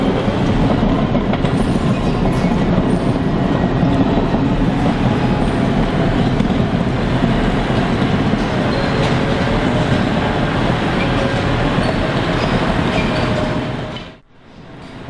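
A Cat D6XE dozer runs from inside its cab: a loud, steady engine roar and drivetrain rumble that holds constant, then briefly cuts out near the end before resuming.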